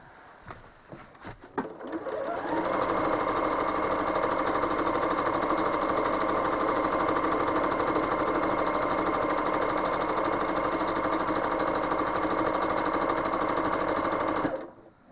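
A home sewing machine quilts a spiral stencil design on a throw quilt, starting after a few brief handling knocks and then running in one steady, even whir for about twelve seconds before stopping abruptly.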